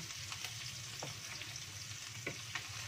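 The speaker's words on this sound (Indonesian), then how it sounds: "ini tadi minyaknya bersih tapi buat goreng ikan asin nggak apa-apa sekalian" Salted fish fries in clean oil, a steady close sizzle with a few sharper pops and stirring clicks scattered through, no talk over it.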